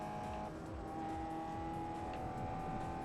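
Racing car engines in Forza Motorsport 4 drone steadily in the thick of a pack on track, a continuous mid-level roar with faint tyre and engine-pitch shifts throughout.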